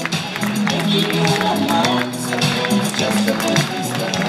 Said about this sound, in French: Voilà, dernier tour, derniers applaudissements